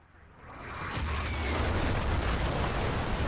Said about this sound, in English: artillery coming in from Oldies onto the market flag